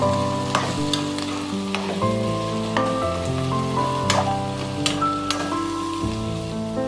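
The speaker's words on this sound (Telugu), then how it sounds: "ఇప్పుడు ములక్కాయ ముక్కల్ని యాడ్ చేసుకున్నాం ఒకసారి మళ్ళీ కలుపుతున్నాం అండి" Drumstick pieces sizzling loudly in an oil tempering for a drumstick curry while being stirred, a dense continuous crackle with intermittent spoon scrapes and clinks close by, no talking.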